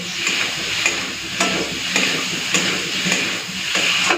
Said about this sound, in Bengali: দিচ্ছি একটুখানি চিনি। বেশ, এরপরে ভালো করে কষে নেব।